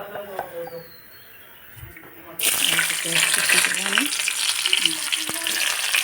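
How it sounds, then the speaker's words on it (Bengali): Chopped onions drop into hot oil in a wok and burst into a loud, steady sizzle that continues close up after a quieter stretch of kitchen clatter and talk. "এখন আমি চলাতে তেল পেঁয়াজ কুচিগুলো দিয়ে দেবো"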